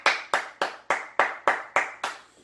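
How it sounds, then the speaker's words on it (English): A single person clapping eight times in an even, deliberate rhythm, each clap crisp and close with a short reverberant tail. "Actually, I need to give a clap"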